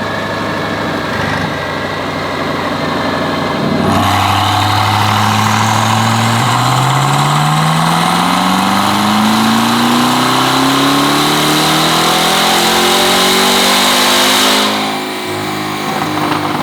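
A twin-turbo C8 Corvette ZR1 convertible with a top-mount turbo kit revs on a dyno. One loud, sustained pull climbs steadily in pitch, then eases off, with no talking.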